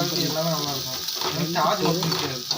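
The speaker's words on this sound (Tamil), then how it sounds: "போட்டு நல்லா வதக்கி நல்லா வதக்கிட்டு மாங்காய் எண்ணெயிலே கொஞ்சம் நல்லா" Mango pieces for pickle sauté in hot oil with a continuous soft sizzle, heard beneath a person speaking throughout.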